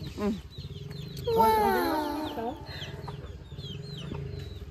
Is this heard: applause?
no